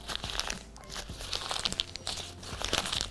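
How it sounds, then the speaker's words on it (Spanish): A sheet of paper crumpled firmly by hand, squeezed tight without tearing: continuous close crinkling and crackling with small irregular crunches, heard alone without talk. "vamos a arrugar un poco"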